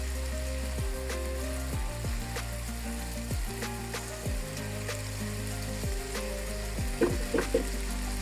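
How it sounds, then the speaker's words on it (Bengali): Spices frying in a pot for vegetable biryani make a steady close sizzle with an even hiss throughout, broken by repeated soft scraping stirs and a few sharper clinks near the end. "মশলাটা ভাজা শেষ"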